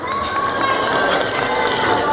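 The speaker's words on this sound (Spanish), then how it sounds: "¿Dónde están los aplausos para Yaritza?" Audience at a live stage show in Arequipa cheers and applauds for a dancer, a dense, steady wash of crowd noise with shouts and whistles throughout the short burst.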